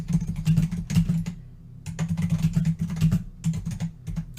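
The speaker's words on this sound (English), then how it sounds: "I'm sorry if you can hear me typing loudly." Loud, rapid clacking of computer keys comes in quick bursts, pausing briefly before the fast typing resumes. It is close and prominent.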